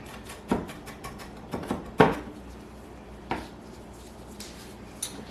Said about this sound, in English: We're going to chop this into little bitty pieces.